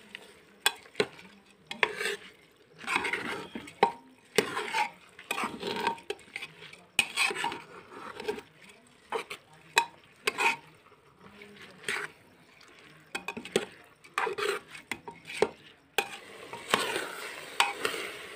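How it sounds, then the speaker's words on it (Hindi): Rice and vegetables are stir-fried together in a pan for veg pulav, with a soft frying sizzle and repeated scraping and clinking of a spoon against the pan in irregular bursts, close and moderately quiet, without talk. "चावल को सब्जियों के साथ भून लेंगे 2 मिनट के लिए।"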